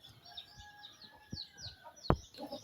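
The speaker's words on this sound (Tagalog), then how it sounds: "Sabod kita sa manok ha. Kasi may bagong sisiw ha." Chickens cluck and chirp softly nearby at feeding time, with one sharp louder squawk near the end, over a quiet outdoor background.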